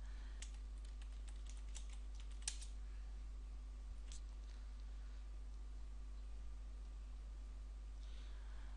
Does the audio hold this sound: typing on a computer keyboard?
yes